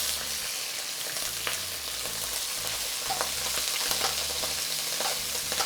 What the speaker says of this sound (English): And I'm going to start by frying the seafood first.